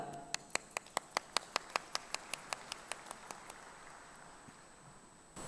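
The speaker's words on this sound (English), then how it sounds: "please welcome with your applause Mrs. Samanthi Senanayaka" A steady run of about sixteen sharp, evenly spaced hand claps at a diploma awarding ceremony in Sri Lanka. The claps are crisp and close, then fade out over a few seconds with no talking.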